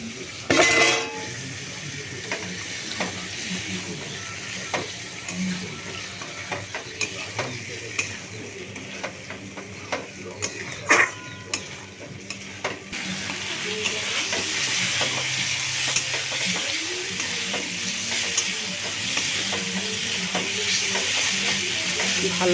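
Small-cut goat liver pieces stir-fried in a spice masala, a close, continuous sizzle with frequent utensil scrapes and clinks against the pan, the frying growing steadier and louder toward the end.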